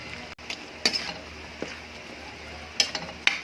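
Chicken caldereta with potatoes and carrots being stirred in a pan: a low simmering sizzle broken by several sharp scrapes and clinks of the utensil against the pan, heard close up.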